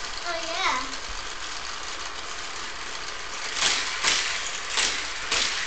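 A toy Lightning McQueen car plays electronic racing engine sounds, a faint revving hum under a voice early on, followed by several louder whooshing bursts near the end.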